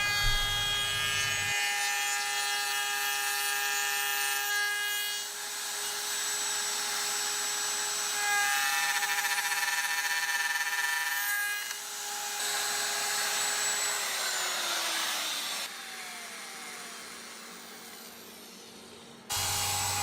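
A handsaw cuts dovetail tail cuts in wenge or birdseye maple for the sides of a keepsake box, with steady rasping strokes that continue nearly throughout, loud and close over a faint mechanical hum.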